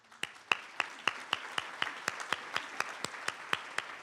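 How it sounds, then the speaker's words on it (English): A round of applause for board members at a Douglas County, Georgia state of the county address comes across as faint, evenly spaced claps in a quick regular rhythm, sounding distant with a light background hum. "we'll give you a round of applause."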